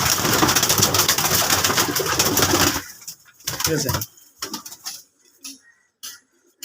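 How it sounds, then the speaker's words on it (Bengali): Madras pigeons in a loft coo amid a dense, noisy wash of flock sounds, then quieter scattered coos close by, with someone briefly speaking. "এই হচ্ছে আরেকটি পায়রা"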